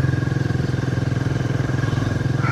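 Royal Enfield Himalayan 450 motorcycle engine idling close by on a hill road, a steady low rhythmic thrum with even pulses throughout, alone with no talk.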